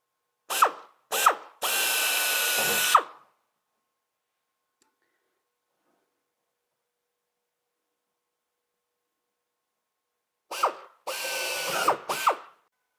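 Drill boring a small hole in an aircraft engine cowl, two short blips then a steady whine, silence for several seconds, then another group of brief bursts, close and alone.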